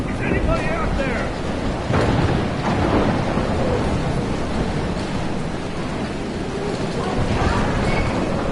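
Heavy thunderstorm in the Life is Strange video game: dense, loud roaring rain and wind with rolling thunder rumbling continuously throughout, no clear pauses.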